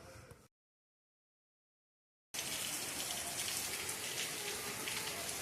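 Heavy rain pours during a thunder-and-lightning storm, a steady, dense hiss of drops hitting surfaces close by. It follows a short burst of sound and a stretch of silence.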